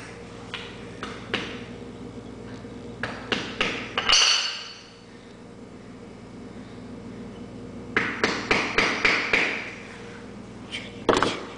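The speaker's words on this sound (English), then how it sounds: "keep putting clay in there and mashing it down with the hammer" Repeated sharp hammer blows packing clay into a rocket tube, in short bursts of taps separated by pauses, close and fairly quiet.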